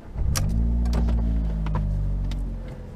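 A Fiat Abarth 500 pulls onto a freeway, its engine a steady low drone close inside the cabin, holding an even level for the whole stretch with faint clicks and ticks over it.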